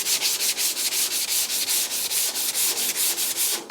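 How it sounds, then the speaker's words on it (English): An epoxy-painted vehicle cab is sanded by hand with 150 grit sandpaper. About fifteen quick, even strokes make a close, loud rasping rub with no voices, then it stops near the end. "so now I'm going to use a grit 150 to sand it"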